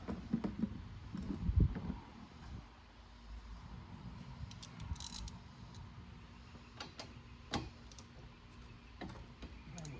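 A ratchet wrench works loose the nuts on the engine of a 2004 Mercury Sable 3.0 DOHC during a plug, coil and valve cover gasket job. It gives faint, scattered clicking ticks over a low, quiet room background.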